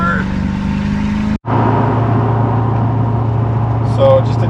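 An LB7 Duramax diesel truck accelerating hard, its engine droning steadily close by, with a sharp dropout near the start as a firm gear shift lands, then a deeper, steady pull afterward.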